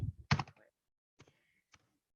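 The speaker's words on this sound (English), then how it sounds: "then we have to type" A few quiet clacks of a computer keyboard: a quick double tap, then a couple of isolated light keystrokes after a pause, close and faint.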